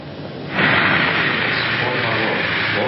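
Airplane engine roar at an airport departure in an early-1950s setting, a steady loud broadband rumble that swells in at about half a second and holds to the end.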